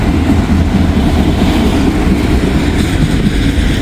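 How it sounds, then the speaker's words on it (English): A Norfolk Southern intermodal train rolls past close by, a loud, steady rumble of wheels and cars with a continuous low roar throughout and no talking. "Got a Norfolk Southern train here."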